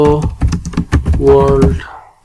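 Typing on a computer keyboard in a text editor on an Ubuntu Linux computer, a quick close burst of key clicks over roughly two seconds, then stopping, with a voice heard underneath.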